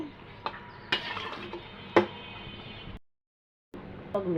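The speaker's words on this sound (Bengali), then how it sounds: "এখন আমি ভালো করে নেড়ে ফেড়ে ডেকে আলুটা একটু কষিয়ে নেব" Potatoes stirred and sautéed in a pan: quiet frying hiss under a few sharp clanks of the spoon against the pan, with a brief cut to silence before the stirring resumes, no talking.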